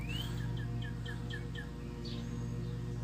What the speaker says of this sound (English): That bird sounded like it just yelled to Rick.